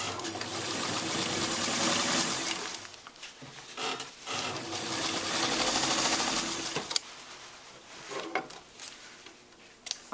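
A sewing machine runs straight stitches through costume fabric, whirring in long steady bursts that pause briefly and restart, ending in short stop-start runs with faint clicks.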